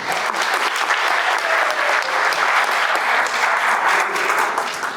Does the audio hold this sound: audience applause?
yes